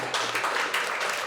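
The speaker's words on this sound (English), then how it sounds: "Let's give him a round of applause." Audience applause at a talk on democracy, a short burst of many hands clapping, bright and dense, swelling briefly near the end.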